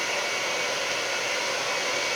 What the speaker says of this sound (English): they couldn't hear me with the hairdryer going